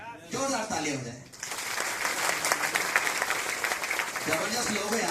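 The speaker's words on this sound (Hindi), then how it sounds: "जोरदार ताली हो जाए।" An audience bursts into loud, sustained clapping at a product training session, close and continuous for several seconds, with someone speaking before and after the applause.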